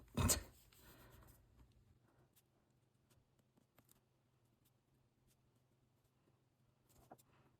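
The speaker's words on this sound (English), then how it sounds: "There's going to be a moment of silence while I write this because I cannot write and talk at the same time." Pen handwriting in a planner, opening with a loud close knock or rustle and then settling into faint scratchy strokes and light taps in a quiet room.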